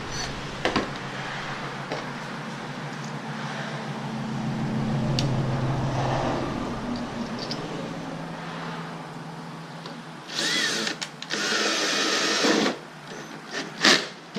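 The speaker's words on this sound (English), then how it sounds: "Makes it easier to drill through this PVC." A drill whirs quietly, then bursts into harsh, rasping grinding near the end as the bit chews through PVC pipe, with short pauses between bursts.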